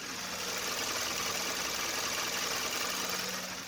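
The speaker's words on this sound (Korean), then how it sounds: "바로 가까이서 엔진 사운드 담아드리도록 하겠습니다" A Kia K7 2.4 gasoline engine idles steadily up close with the hood open, a smooth, even mechanical hum with a faint rhythmic knock and no talking.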